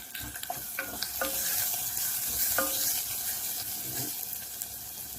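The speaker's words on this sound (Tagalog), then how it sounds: "igisa natin ang ating munggo" Mung beans sauté with garlic in a pan, giving a steady moderate sizzle with a run of quick clinks and scrapes from the stirring utensil near the start, then a softer, even frying hiss.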